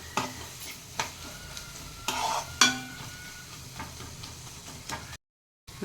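Dried anchovy thokku fries in a pan, a steady sizzle underneath while a spoon stirs and scrapes, knocking against the metal in several sharp clicks, close by, before a short moment of silence.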